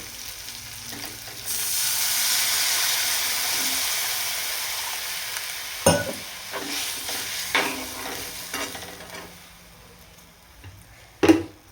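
Water goes into a pan of simmering potato curry with a sustained hiss and sizzle, followed by scattered stirring clinks and scrapes and a sharp knock near the end.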